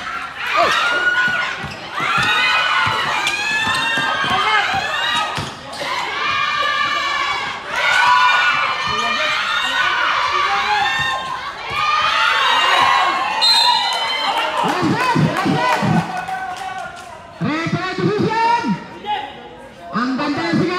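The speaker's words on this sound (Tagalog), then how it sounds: "Ang ganda ng sigawan!" Crowd at a semifinal basketball game yelling and cheering in loud repeated waves, with children's shouts, a bouncing ball and a commentator's voice over the din.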